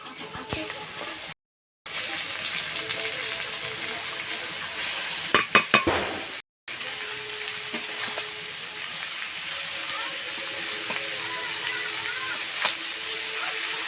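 Capsicum, carrot, cabbage and beans fry for chowmein in plenty of oil over a low flame. The gentle sizzle is steady and continuous, with a few quick utensil clinks midway and two brief dropouts, and no talk.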